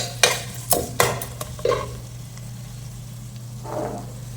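Garlic cloves sautéing in oil for a vegetable gravy: several sharp stirring scrapes and clinks up front, then a quieter steady sizzle with a faint low hum, no voices.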